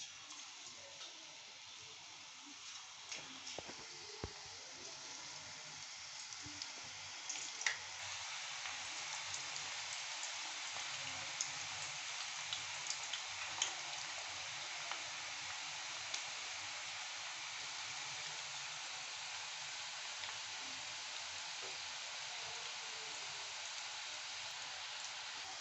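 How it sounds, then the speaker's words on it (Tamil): Senai yam (elephant yam) pieces fry in hot oil in a pan, making a faint, steady hiss and crackle with scattered small pops and no speech. "பாருங்கள், எண்ணெய் காஞ்சிருச்சுங்க. இப்போ சேனக்கிழங்கு ஒவ்வொன்றா எடுத்து போட்டுக்கலாமுங்க."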